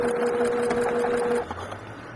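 A sewing machine stitches a fabric face mask, running with a steady mechanical hum for over a second before stopping, close by and alone.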